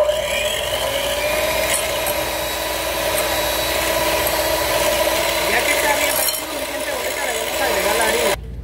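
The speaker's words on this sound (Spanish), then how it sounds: "vamos a empezar a batir" An electric mixer beating cake batter with sugar and vanilla, a steady continuous motor whir with grinding texture running throughout, close and fairly loud, then cutting off near the end.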